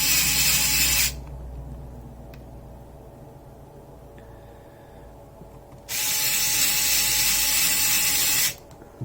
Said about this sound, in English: Go ahead and get these screws in.